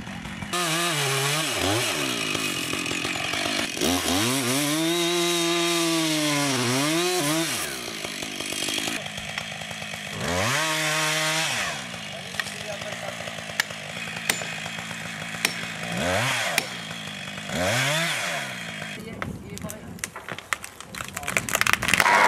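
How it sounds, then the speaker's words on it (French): A chainsaw roars loudly, its engine pitch rising and falling repeatedly as it revs and bites into a tree, continuous for the whole stretch. "on rentre la tronçonneuse"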